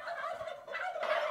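Turkeys gobble together inside a poultry shed holding about 200 birds in Monzen-machi, Wajima. The overlapping, rapid, throaty calls come close and steady for a moment, with no talk.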